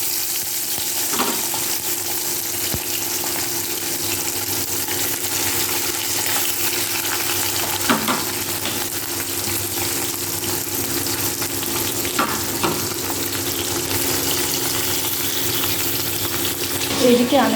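Katla fish frying in hot oil, a loud, continuous close sizzle that holds steady throughout, broken by a few soft clinks and splutters.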